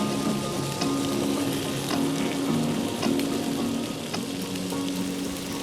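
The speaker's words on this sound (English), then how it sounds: "To get that flame broiled flavor, I'll be using my butane torch" A butane torch flame sears a steak, giving a steady close sizzling hiss with a faint roar underneath and small crackling pops throughout. No talk.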